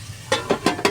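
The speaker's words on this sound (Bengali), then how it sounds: "কাঁচা লঙ্কা শুকনো লঙ্কা দিয়ে ভাজছি।" Green and dried chillies frying in a pan, a low sizzle broken by four quick, evenly spaced scraping or stirring strokes, close and clear.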